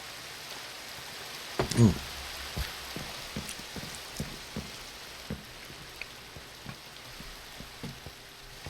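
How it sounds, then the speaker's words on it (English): Rain in a Minecraft Tektopia game world, a soft continuous hiss with scattered sharper drop-like ticks and one louder thump early on, fairly quiet overall. "get the rain to go away."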